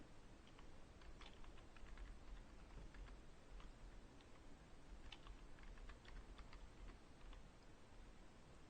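Rapid, steady keystrokes on a computer keyboard as a password is typed, close and fairly quiet, with uneven bursts of clicking and brief pauses throughout.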